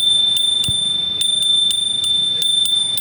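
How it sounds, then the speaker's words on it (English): A fast single-motor electric scooter's horn gives a loud, steady, high electronic tone that pulses in quick regular beats, close and alone without talk. "let's test this horn out."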